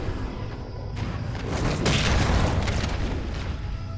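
Grenade explosions in the video game Halo Combat Evolved, a loud rumbling boom that builds and rolls for several seconds, dense and close with layered blasts.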